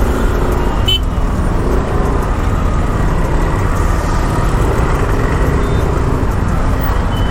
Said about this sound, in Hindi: पता नहीं आज क्यों इतनी ज़्यादा ट्रैफिक है।